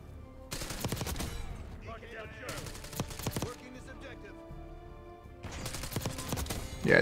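A Jackal PDW submachine gun firing in Black Ops 6, three bursts of rapid automatic shots with in-game effects between them, while a player talks over the gameplay.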